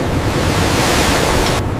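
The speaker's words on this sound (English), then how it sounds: "Watch the waves." Loud, continuous ocean waves and surf wash around a commercial fishing boat during a shark hunt, a dense roar with wind buffeting the microphone and no voices.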